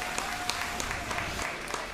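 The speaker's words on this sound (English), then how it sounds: "Round of applause." An audience at a 12lb robot combat event applauds after the match, a steady wash of clapping with a few sharper individual claps, moderately loud and fairly close, with faint voices mixed in.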